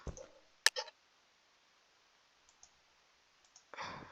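A couple of sharp computer mouse clicks early on while playing Minecraft SkyWars, then faint scattered clicks, and a brief rustle at the end, in an otherwise quiet room.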